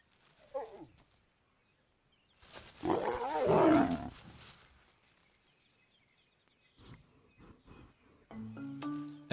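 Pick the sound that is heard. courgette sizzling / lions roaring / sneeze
lions roaring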